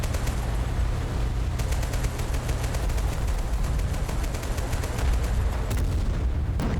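Sustained heavy weapons fire in a large war-game battle with a tank, a dense roar of rapid cannon and machine-gun shots with booming impacts, loud and continuous throughout.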